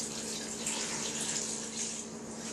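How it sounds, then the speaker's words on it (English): Cold water pours steadily into a pot of beef bones, a continuous soft hissing rush at moderate distance without pauses or talk. "Make sure to add cold water."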